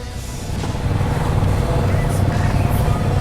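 A car passes on a road nearby at night during the Fourth of July, a loud steady rumble of engine and tire noise building and holding close by.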